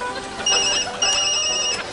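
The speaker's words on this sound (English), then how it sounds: "ever since breakfast my phone's been ringing off the hook" A mobile phone ringtone plays twice in quick succession, a bright repeating electronic tone pattern with each burst lasting about half a second, loud and close over a faint background.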